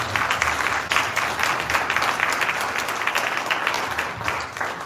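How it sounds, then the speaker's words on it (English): An audience at a live climate-policy event applauds, dense continuous clapping from many hands at moderate distance, steady throughout with slight swells and no speech over it. "I just didn't like the way we applauded. I think we could do better."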